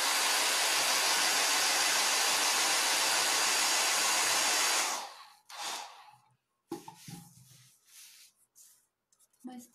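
A hair dryer blows at close range over a stenciled layer of country primitive paint, a loud steady whoosh for about five seconds. It then cuts off, leaving quiet handling sounds and a few brief voices.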